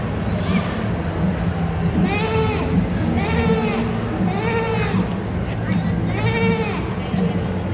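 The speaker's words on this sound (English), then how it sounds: "The goat bleated." Goat bleating in a school readers' theater performance, a series of about five wavering bleats spaced roughly a second apart over a steady background murmur.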